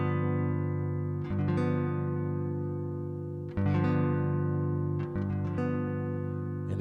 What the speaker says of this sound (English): we are only going to strum from the 6th string to the 3rd string